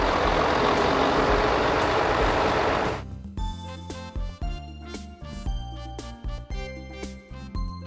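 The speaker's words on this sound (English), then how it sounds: "Police Wheel lift tow truck." Toy police wheel lift tow truck: a loud engine roar for three seconds, then a string of irregular clunks, beeps and mechanical clicks, close and alone.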